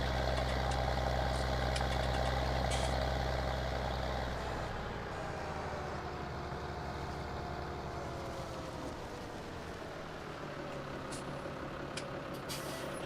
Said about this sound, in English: It's a really nice sounding tractor, this one.